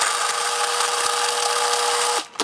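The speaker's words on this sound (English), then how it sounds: "with the red peppers and garlic in the food processor, we're gonna turn the machine on until they're pureed" A food processor whirs at high speed, pureeing roasted red peppers and garlic, a loud steady motor drone that cuts off abruptly near the end.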